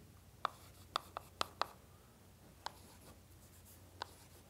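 Chalk or marker strokes on a board during a graduate numerical methods lecture, about nine short sharp taps and scratches spaced irregularly, fairly close against a quiet room.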